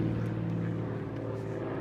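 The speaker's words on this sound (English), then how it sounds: "So we got a plane overhead." An airplane passes overhead outside a school lunch area, a steady droning engine hum with a low tonal rumble, continuous and moderately loud throughout.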